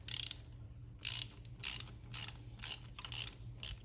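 A ratchet clicks in short bursts, each a quick run of pawl ticks with pauses between, as a spark plug is tightened by hand on a 2010-2017 Ford Fusion Hybrid, heard close and alone.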